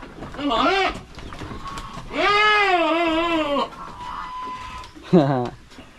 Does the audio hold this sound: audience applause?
no